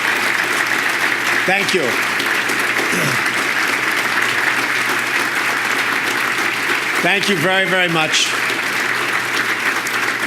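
An audience in Colorado applauds loudly and continuously after the Governor's State of the State address, while someone speaks brief thanks over the clapping, which carries on throughout.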